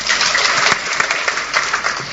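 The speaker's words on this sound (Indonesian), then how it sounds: "Tepuk tangan." Brief burst of dense, hissy applause from a church congregation during a sermon, loud and continuous for about two seconds without speech over it.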